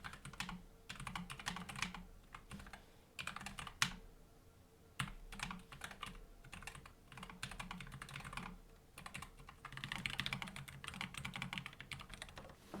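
A Keychron K5 Max mechanical keyboard typed on at close range, giving a steady stream of clicky keystrokes in quick bursts with short pauses, no talking.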